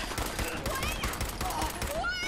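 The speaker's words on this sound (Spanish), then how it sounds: "La ametralladora." Rapid machine gun fire in the Fallout 4 video game, dense bursts crackling under a busy mix with raised voices talking over it.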